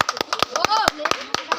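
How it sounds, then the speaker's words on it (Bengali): People clap their hands in a quick run of sharp claps, mixed with voices talking over them. "হাততালি।"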